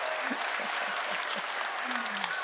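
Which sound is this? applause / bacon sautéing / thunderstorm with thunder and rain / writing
applause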